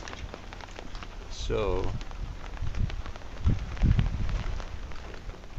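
Heavy rain pours steadily at night in a stormy garden, a dense, constant patter of drops close by, with someone briefly speaking over it.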